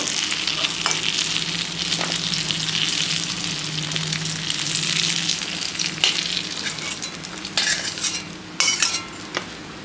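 Dried fish frying in oil in a pan, a steady close crackling sizzle with scraping stirs and a few sharp utensil clicks toward the end.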